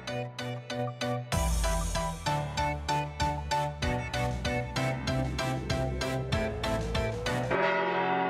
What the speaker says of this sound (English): That bell lasted about a minute long and I didn't expect it.